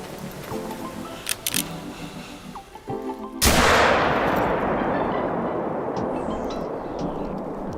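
A rifle fires in theHunter: Call of the Wild, one loud close shot whose report rolls away in a long fading echo, after a few faint clicks and handling sounds.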